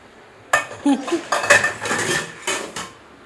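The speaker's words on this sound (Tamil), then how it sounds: "பாப்பா வந்து இப்போ பாத்திரம் கழுவுறா" Dishes and utensils being washed at home, with metal pots and cutlery clanking and scraping in several loud, close bursts separated by short pauses, and no talking.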